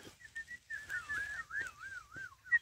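A man whistles a wavering, melodic command to a team of oxen drawing a plough in a field: one long sliding whistle that rises and falls, close and moderately loud, with faint outdoor background and no talk.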